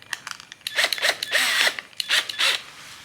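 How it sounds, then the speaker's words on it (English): Bench-mounted bike repair stand being screwed onto a workbench, with short bursts of a power driver whirring and ratcheting in several pulses, close and clear, no talking. "Okay, now we have to put the screws in"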